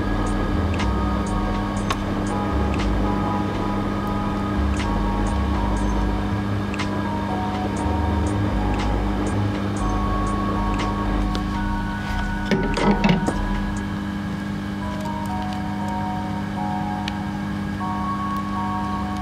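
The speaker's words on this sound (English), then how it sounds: "So I'm gonna try to blow with hot air here and try to remove it." A hot air blower runs steadily on a motherboard to heat a glued, stuck part, a continuous whooshing hum with faint clicks, one brief louder clatter midway, no talking.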